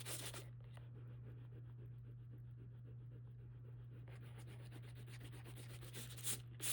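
Paper being rubbed off an acrylic paint image transfer, a steady close scratchy rubbing that runs continuously under a low constant hum, with a few sharper scrapes near the end.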